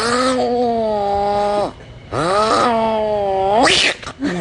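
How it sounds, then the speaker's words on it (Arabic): An angry cat lets out two long, loud, drawn-out yowls heard close up, separated by a short pause and ending in a rising, strained cry. "قطو زعلان."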